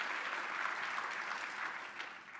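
A crowd claps steadily for elected officials at a public gathering, a dense, even wash of applause from a mid-distance audience that continues throughout without a break.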